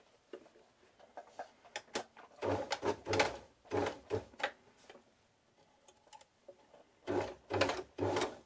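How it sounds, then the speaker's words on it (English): A sewing machine runs a zigzag stitch onto stretched elastic in short close bursts of rapid mechanical ticking, separated by pauses and small clicks of handling, with no talking. "I'm going to stitch it on using a zigzag stitch"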